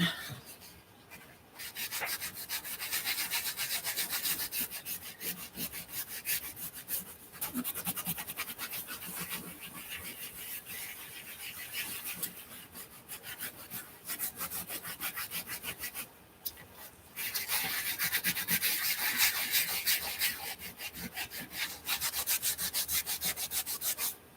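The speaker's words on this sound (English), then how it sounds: "the tissue's falling apart as I'm buffing." A tissue buffs and rubs across a board in steady, close, scratchy strokes that continue almost without pause, with only brief gaps between passes and no talking.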